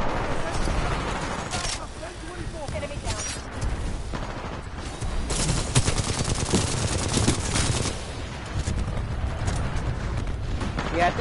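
Rapid automatic gunfire from the Titanfall 2 video game, dense and continuous with mechanical clatter and explosive bursts throughout, loud and busy across the whole stretch.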